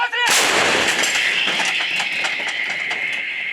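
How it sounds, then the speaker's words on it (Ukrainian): A loud artillery gun blast goes off close by in fighting near Pervomaiske, Donetsk, its roar and crackle lingering as a broad rumbling wash for several seconds. "Гармата свою роботу робить."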